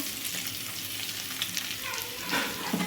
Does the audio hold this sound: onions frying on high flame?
yes